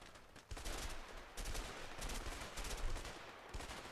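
Gunfire crackles in A Way Out, with several bursts of rapid shots from a short-range gun coming in uneven clusters, fairly quiet and distant-sounding.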